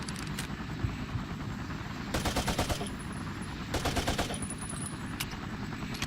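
Bursts of AK rifle fire in the Vietnam-era shooter Battlefield Vietnam, two rapid automatic volleys of a couple of seconds each over a steady droning rotor-like background.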